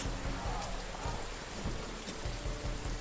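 Steady rain falls around a camp, a dense continuous patter with low rumbling thumps mixed in, heard alone without talk.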